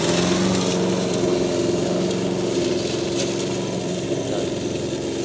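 A new lawn mower engine runs steadily through thick grass on a soccer field, a continuous droning hum with no break, close by and moderately loud, with no talking.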